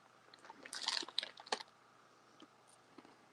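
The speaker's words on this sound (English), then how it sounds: "Sorry if you guys hear me munching." Someone munching pretzels close to the mic, a quiet burst of crisp crunches and bites clustered in the first half, then sparse small clicks fading out.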